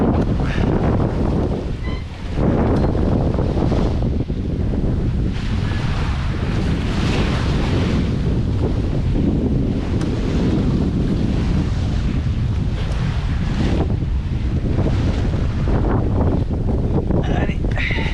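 Strong wind buffets the microphone on a sailing crossing from the Azores to Gibraltar, over rushing sea and waves, a loud continuous roar with gusts rising and falling, and a voice now and then.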